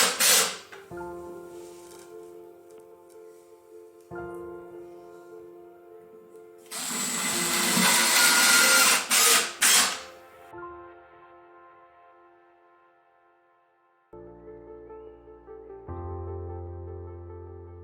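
A power drill drives screws into wood for a rabbit hay rack, heard as several separate whirring bursts, with a louder, rougher stretch in the middle and a lower-pitched run near the end, close by.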